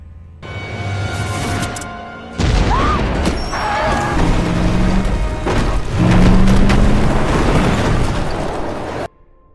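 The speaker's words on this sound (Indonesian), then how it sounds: "mereka harus secepat mungkin meledakkan terowongan itu sebelum rombongan Kurt melewatinya" A tunnel is blown up in the horror film The Cabin in the Woods: a loud, deep blast swells into a sustained rumble with crumbling debris, and faint tonal sounds ring over it before it cuts off.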